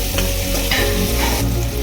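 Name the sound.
onions and tomato frying and being stirred in a pan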